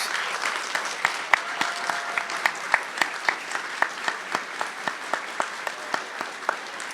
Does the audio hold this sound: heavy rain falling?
no